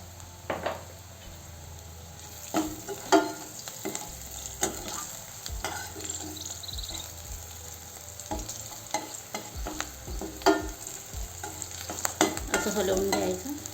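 Medu vada batter being stirred by hand in a bowl in a home kitchen, a steady wet scraping and slapping with a frying sizzle underneath, irregular strokes that grow busier toward the end, no talk.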